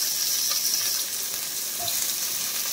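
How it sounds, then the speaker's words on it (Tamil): Chopped onion and garlic frying in a pan for roadside-style masala Maggi noodles, a steady, close hiss and sizzle that runs throughout with no talking. "வெங்காயம் வதங்கட்டும்."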